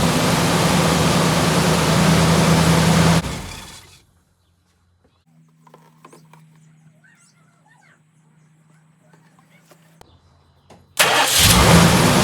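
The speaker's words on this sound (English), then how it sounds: "We're gonna turn on the engine and make that pump work." A car engine starts after power steering fluid is added: loud running noise at the start cuts out, a quiet stretch with a low hum follows, then the engine roars back to life near the end.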